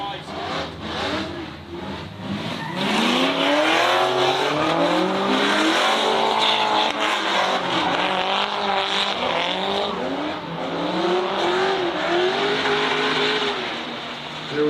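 Drift cars racing on the plains, engines revving and rising in pitch with shrill tire squeal and skidding, loud and continuous, with a commentator's voice running over the action.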